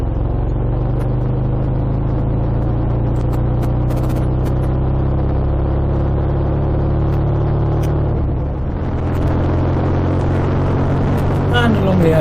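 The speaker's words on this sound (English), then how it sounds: "the A10 is the ideal bike for roads like these" A classic BSA A10 motorcycle cruising along Cornwall back roads, a steady loud engine drone with a dense low rumble and wind roar, holding an even pace with a slight dip and a brief throttle change near the end.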